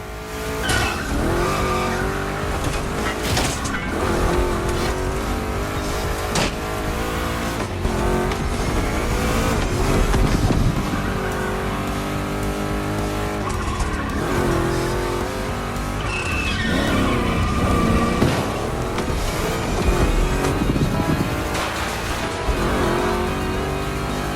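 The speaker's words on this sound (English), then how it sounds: "2 Chevys, 2 big blocks, but only 1 winner" Two big-block Chevy cars race hard, engines roaring loud and close throughout with tire squeal and skidding through turns, a steady dense racing din with no talk.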